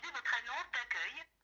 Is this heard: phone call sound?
yes